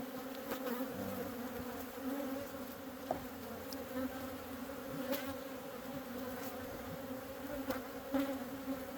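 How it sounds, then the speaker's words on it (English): Honey bees swarm and drone steadily around an open backyard hive, a dense, continuous buzz close by with individual insects passing near. "There are a lot of bees in here"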